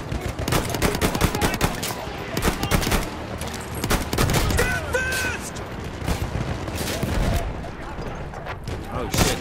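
Dense, continuous gunfire and bursts of automatic weapon fire fill a chaotic video game battle scene from War Stories - Storm of Steel, loud and close throughout, with a voice talking over the shooting.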